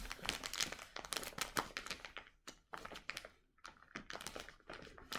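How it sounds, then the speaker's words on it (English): Crinkly plastic packaging rustles and crackles as a skein of pink lemonade yarn is pulled free. The close, busy crumpling bursts pause briefly midway and then carry on, with no talking. "So let me take it out of the packaging."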